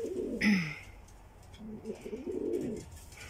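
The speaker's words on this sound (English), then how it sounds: "Oh, look at the beautiful German owls." German Owl pigeons in a cold-weather coop give soft, low cooing calls, one brief note near the start followed by a longer, murmuring run of coos, close by and moderately quiet.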